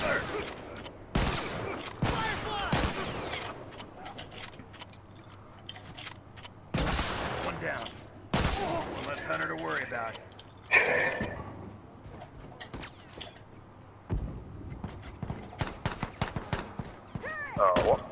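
Gunfire in The Last of Us: scattered loud shots and short bursts crack out at irregular intervals, some near and some farther off, with quiet stretches between volleys.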